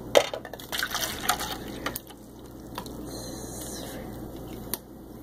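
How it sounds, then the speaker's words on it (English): Dr Pepper soda poured from a container into a cup, a steady liquid gurgle and fizz lasting several seconds at moderate level, with a few clinks at the start and no talking. "I'm just gonna have to pour my Dr. Pepper."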